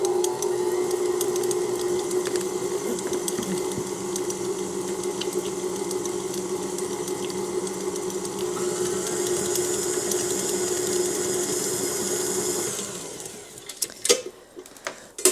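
Electric mixer beating pound cake batter, a steady loud motor whine with a mechanical rattle that holds for about twelve seconds, then winds down and stops, followed by a few clattering knocks.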